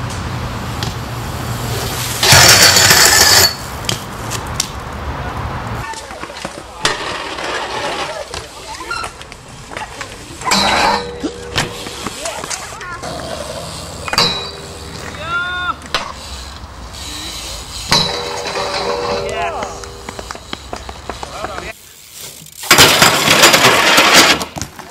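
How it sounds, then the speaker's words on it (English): Metal BMX pegs grind along metal rails and unwaxed ledges in several scraping, clattering passes separated by gaps, with some voices in the background. "You hear the noise as a metal peg goes along the metal rail."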